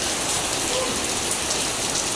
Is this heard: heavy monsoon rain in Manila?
yes